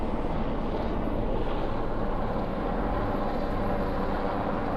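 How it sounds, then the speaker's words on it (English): Steady low rumble of three helicopters drones throughout, with broadband wind-like noise and no clear voices. "I see all 3 helicopters there."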